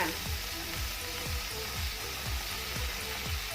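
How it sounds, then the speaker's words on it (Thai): Light soy sauce hits a hot frying pan of stir-fried Chinese celery, sending up a steady, close sizzle with regular scraping stirs about every half second. "แล้วก็ใส่ซีอิ๊วขาวลงไปค่ะ"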